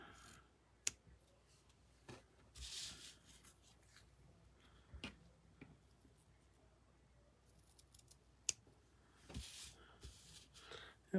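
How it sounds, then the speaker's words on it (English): Scissors snipping through card stock while making a stamped Dutch door fun fold card, a few quiet separate cuts and light rustles scattered over a hushed tabletop background. "And then we're just going to trim that."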